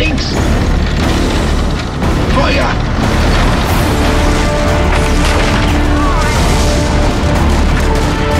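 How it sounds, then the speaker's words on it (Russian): Artillery guns thunder through a night battle in a WWII-era tank fight, with loud, continuous booms and crashes layered over dense rumbling throughout, with no pauses. "Пока грохотали орудия"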